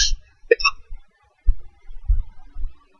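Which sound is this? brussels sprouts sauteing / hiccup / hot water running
hiccup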